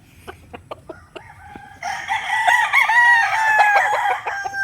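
A Kelso gamecock rooster crows on a game farm, one long, loud, drawn-out call close by, preceded by several short clucks and calls.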